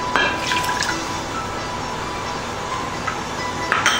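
Water pours into a pot for teriyaki sauce in the kitchen, a close trickling and splashing stream with a few brighter drips, steady and without talk.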